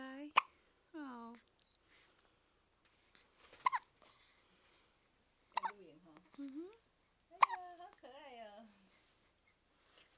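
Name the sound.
baby hiccups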